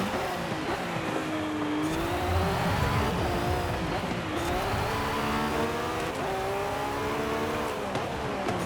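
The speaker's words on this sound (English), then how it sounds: "I can hear the 918 behind me" A Porsche 918 race car in a racing video game, its high-revving engine roaring continuously with rising and falling pitch sweeps as it runs close behind, with a faint edge of tire noise.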